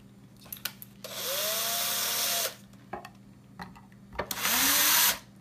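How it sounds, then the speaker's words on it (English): A power drill whirs loudly in two bursts, each about a second long, rising in pitch as it spins up, pre-drilling through a chocolate skull cake's hard outer shell, with light clicks and handling noises between them. "Just pre-drilling a small little hole through that really tough outer exterior."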